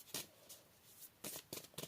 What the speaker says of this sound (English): is a lengthy shuffling video